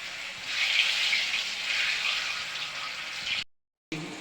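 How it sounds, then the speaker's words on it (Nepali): Potatoes sizzle in hot oil with turmeric, a steady, bright frying hiss that runs continuously, cuts out briefly, then resumes at the end. "आलु फ्राई हुँदैछ है।"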